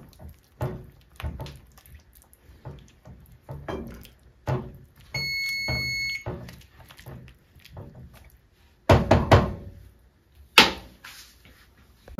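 A kitchen timer rings during kale soup cooking, a steady electronic tone lasting about a second amid clattering kitchen sounds and dripping water.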